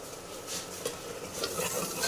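A paste of ground green chili, onion, garlic and tomato fries quietly in a pan, a soft steady sizzle broken by scraping stirs, close by and with no talking.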